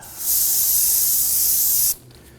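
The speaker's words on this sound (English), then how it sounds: "I'm going to spray it down with some spray solvent." A single continuous hiss of an aerosol can spraying solvent on a 2008-2011 Ford Focus brake knuckle for under two seconds, loud and close, then cutting off abruptly.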